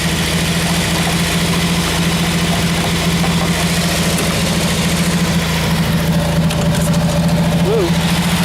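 An engine idles roughly with the choke on, a steady, loud, close drone with a low throbbing pulse that runs unbroken for the whole stretch.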